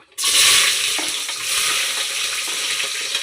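Onions and green chillies hit hot oil with a sudden loud sizzle, then keep frying steadily while a spoon stirs them, scraping softly in the pan for a few seconds.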